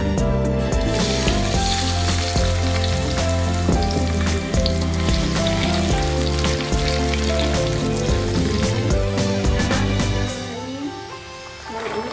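Loud, continuous sizzling of hot oil heating for frying pastel pastries, a dense crackling hiss with steady tonal sounds layered over it throughout.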